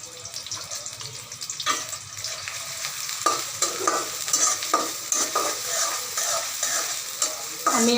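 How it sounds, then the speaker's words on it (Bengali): Mung dal roasts in a pan over a low flame for a fish-head muri ghonto: a soft background sizzle broken by repeated sharp scrapes and stirring strokes, growing busier toward the end, with no talking. "আমি আগে মুগ ডালটা ভাইজে একদম চুলায় লো ফ্লেমে রেখে চুলাটা অল্প আঁচে রেখে"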